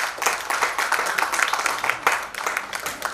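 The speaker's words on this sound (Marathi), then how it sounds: "मंदासाठी खरंच जोरदार टाळ्या झाल्या पाहिजे" An audience applauds a singer after a solo song performance, a lively burst of dense hand clapping close by that holds steady for several seconds with slight swells.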